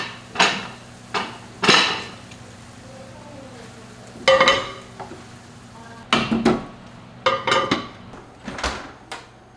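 A spoon stirs a sweet potato topping of chicken broth and vinegar in a pot, making several separate clattering, scraping bursts with pauses between them, near and fairly loud, with no talking.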